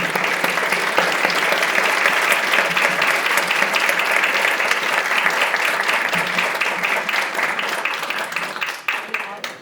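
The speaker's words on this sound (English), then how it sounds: "Will you please put your hands together for Beth?" Warm, sustained audience applause at a women's health awards ceremony, many hands clapping steadily and loudly throughout before thinning out near the end.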